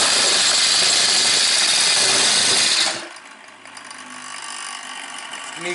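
A small engine runs loud and rough at close range for about three seconds while warming up, then settles to a quieter, uneven idle hum.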